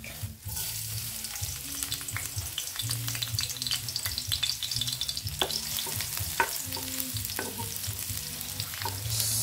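Garlic sautéing in a pan for ampalaya with egg crackles and sizzles steadily up close, with frequent sharp pops and light stirring scrapes throughout.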